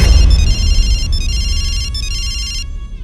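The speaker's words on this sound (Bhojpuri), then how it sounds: "फोन उठाओ" A mobile phone ringtone plays a repeating electronic melody in short bursts with brief gaps, loud and close, over a low background rumble.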